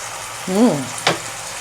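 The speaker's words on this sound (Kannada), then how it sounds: "ಇವಾಗ ಚೆನ್ನಾಗಿ ಫ್ರೈ ಆಗಿದೆ" Shakshuka fries in a pan with a steady soft sizzle, briefly interrupted by a short hummed vocal sound and a sharp click.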